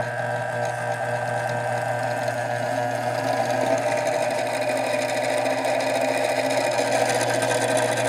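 Premier Mill Series 2000 Model 90 laboratory dispersator, a 12 amp 115 volt mixer rated to 15,000 RPM, runs at low speed with a steady, close motor whine and hum that holds even throughout.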